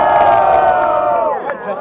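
A crowd cheers, whoops and shouts loudly at a rap battle in Guarulhos, a dense sustained roar of voices that dips slightly near the end.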